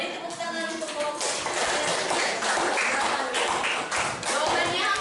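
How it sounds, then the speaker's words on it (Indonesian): A classroom group is given a round of clapping: dense, continuous hand claps from many people, close and fairly loud, with a few heavier taps, lasting throughout with talking mixed underneath. "Beri tepuk tangan untuk kelompok"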